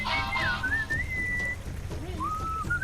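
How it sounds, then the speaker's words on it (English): A bright, wavering whistled melody from a video game, with sliding pitches, plays over a soft steady hiss, pausing briefly before resuming. "What is that enchanting whistling sound?"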